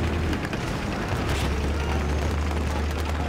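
A detonated explosion in Battlefield 3 produces a heavy, sustained rumbling roar with deep low-end boom and dense crackling debris, loud and continuous throughout.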